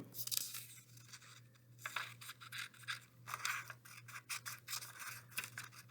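Quiet, close scissors snipping and rustling through paper in a run of uneven cuts, soft against a low background hum.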